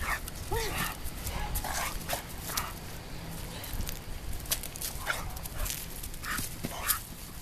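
A dog sniffs around and gives a few soft, high whimpers and yips, close by but quiet, with scattered faint rustling and occasional voices in the background.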